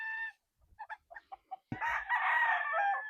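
A Pulse Park Gray gamefowl rooster crows loudly and close, preceded by a few short clucks; one full, drawn-out crow ends the sequence, with no talking.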